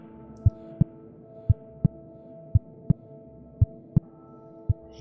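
Heartbeat sound effect in a Spanish-language Lovecraft audiobook, a steady series of deep, close thumps arriving in uneven pairs over a low sustained hum, with no voices.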